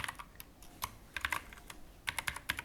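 Quiet keystrokes on a computer keyboard while writing Dart code: irregular bursts of light clicks, several quick taps grouped together with short pauses between them, close to the microphone and without any talk.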